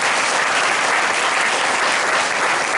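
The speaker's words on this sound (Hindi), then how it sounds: "जोरदार ताली बजाओ भाई।" Dense, loud applause from a church congregation, a steady wall of clapping that holds at full strength without a break.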